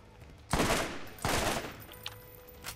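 Two loud gun bursts from a weapon in the video game Borderlands, each about half a second long with a short gap between them, followed by fainter game sounds.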